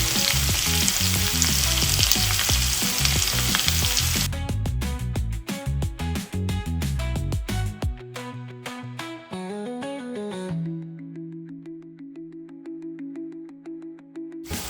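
Ivy gourd fries with chili powder in a pan, a loud, dense sizzle for the first few seconds before sustained tonal music takes over and carries on to the end.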